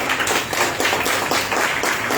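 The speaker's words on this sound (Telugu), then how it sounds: "చప్పట్లు కొట్టండి ఒకసారి" A church congregation claps together during a Sunday worship service, a dense, loud run of rapid hand claps that keeps an even rhythm throughout, with no speech over it.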